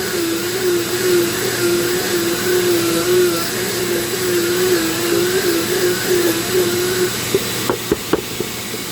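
A Dremel rotary tool carving a fairy castle whines steadily and close, a continuous high motor hum with slight pitch wavering, then a few brief knocks and taps near the end.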